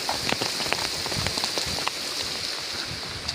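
Heavy rain pours steadily onto surfaces nearby, a dense, continuous patter with scattered sharper drops.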